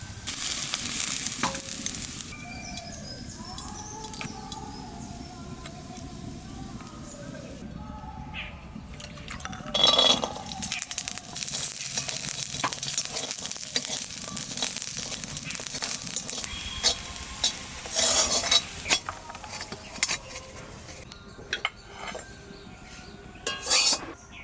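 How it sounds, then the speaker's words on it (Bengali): Garlic sizzles in a pan after onions for a bharta, a soft frying hiss broken by scraping and clattering of a spatula stirring, with intermittent louder knocks and a faint voice in the background. "আমি পেঁয়াজ নামাইতে রসুন ভাজবো।"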